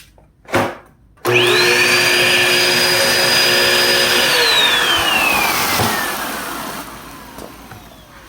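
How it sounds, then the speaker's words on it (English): Kirby vacuum cleaner with its brush roller spinning, a brief thump, then a loud motor start that holds a steady whine for several seconds before winding down near the end. "So, this machine works. I can tell the brush roller is spinning."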